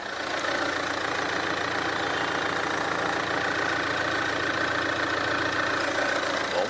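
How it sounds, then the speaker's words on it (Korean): A Mercedes-Benz A-Class engine idles steadily at close range with the bonnet open, a continuous mid-pitched rumble with a faint rhythmic knock, with no talking. "벤츠의 A클래스랑 엔진 소리 한번 자세하게 들어보도록 할게요"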